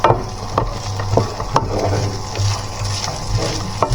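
Fried rice is stirred and tossed in a hot pan: a steady, close sizzle with repeated scraping and clacking strokes from a spatula against the pan.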